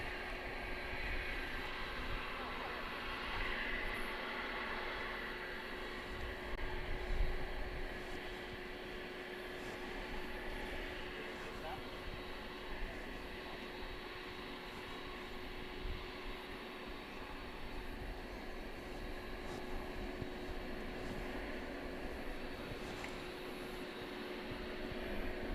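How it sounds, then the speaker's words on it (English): Qantas Flight 8 airliner bound for Sydney at DFW Airport at night produces a long, steady distant jet roar with a faint tonal hum, swelling slightly and staying continuous, with no talk over it. "Qantas Flight 8 to Sydney, running late tonight."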